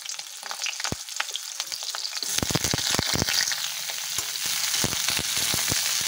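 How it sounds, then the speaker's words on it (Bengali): Cauliflower pieces dropped into hot oil after potatoes, for a fish curry: a loud, dense sizzle that swells once the florets hit the pan, with crackles and stirring scrapes throughout, no voices. "এবার দিয়ে দেবো ফুলকপি।"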